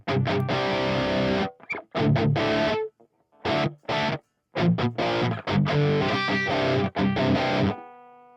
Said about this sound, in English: Okay, now இப்போ drive set ஆயிடுச்சு.